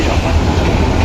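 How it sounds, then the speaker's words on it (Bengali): A local train rolls past on the railway, a loud, close, continuous rumble with a rhythmic clatter of wheels over the track, with no talking. "local train"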